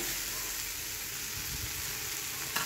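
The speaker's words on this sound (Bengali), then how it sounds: "ডালের সঙ্গে পেঁপেটা ভালো করে ভেজে নিচ্ছি" Raw papaya fries with mung dal in a pan, giving a steady close hiss of sizzling with faint stirring underneath and no talk.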